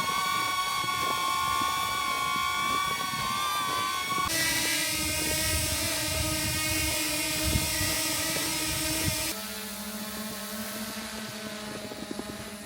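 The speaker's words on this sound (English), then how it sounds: "Just listen to this comparison here between 3 different drones when doing a follow shot in the forest." Three drones, including a DJI Mini, flying a follow shot in a forest, heard one after another as steady high-pitched propeller whines, each with a different pitch and loudness, continuous with no talk.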